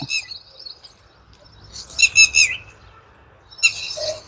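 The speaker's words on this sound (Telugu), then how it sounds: "అరుస్తూనే ఉన్నాయి పక్షులు" Birds call and chirp outdoors in short bright bursts separated by quiet gaps, several high tweets from fairly close by.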